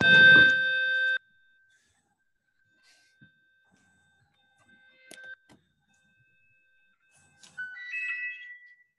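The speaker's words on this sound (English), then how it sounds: "That's my food bank, folks, setting the alarm." A security alarm being set at a food bank gives a loud opening burst of tonal beeps, then a long faint steady tone, with scattered short chirps and a final rising series of electronic tones.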